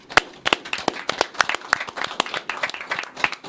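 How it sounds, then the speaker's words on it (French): A modest group claps in uneven, distinct hand strikes, a loose scattering of individual claps rather than a dense roar, close and fairly lively throughout. "Eh bien, nous applaudissons."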